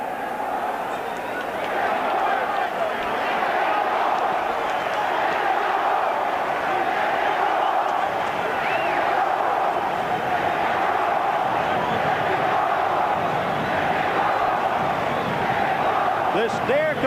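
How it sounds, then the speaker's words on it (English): A near-capacity crowd at a WBC super lightweight title boxing fight roars and chants steadily throughout, a dense continuous wash of many voices with no pause, as the bout begins. "This near-capacity crowd chanting Mexico, Mexico as we begin the fight"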